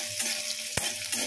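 Finely chopped onion fries in hot oil in a pan, a bright steady sizzle with one sharp spatula knock and soft stirring scrapes across a very short stretch.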